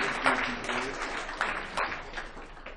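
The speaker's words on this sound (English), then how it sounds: "we should keep the clapping more" An audience claps at a conference closing ceremony, a moderate, uneven spatter of applause that gradually thins as it goes on.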